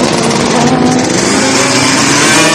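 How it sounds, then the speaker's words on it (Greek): Motorcycles of riders Berdes and Fragkiadakis setting off at a race start, loud buzzing high-revving engines blaring continuously throughout, harsh and close. "Στο 31ο και 32ο δευτερόλεπτο ακούγεται ξεκάθαρα ο θόρυβος από τις μοτοσικλέτες των Μπερδέ Φραγκιαδάκη που ξεκινούν τον αγώνα"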